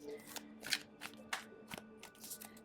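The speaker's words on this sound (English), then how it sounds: "Sorry, I feel like I need to shuffle a little bit more." Thick tarot cards are shuffled by hand in a few quick, soft riffling bursts, close and quiet, with no voices.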